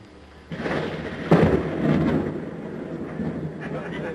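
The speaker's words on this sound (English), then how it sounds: "We got a serious thunderstorm here, so it's lightning." A serious thunderstorm rolls through as a low, broad rumble of thunder, with a sharper crack near the middle that swells, then a long fading roll under steady background noise.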